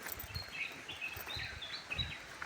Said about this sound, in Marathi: पक्ष्यांचा आवाज तर एकदम भारीच